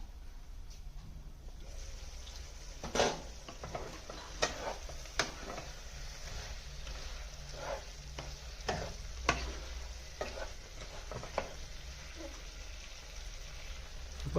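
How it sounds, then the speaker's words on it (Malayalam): A spoon stirs roasted coconut paste, ground with a little water, into a pan of Kerala-style varutharacha chicken curry, giving soft scraping and occasional sharper clacks against the pan over a low steady simmer, close by with no talking. "തേങ്ങ ചേർത്തിട്ട് നല്ലോണം അതൊന്ന് മിക്സ് ചെയ്ത് കൊടുക്കണം"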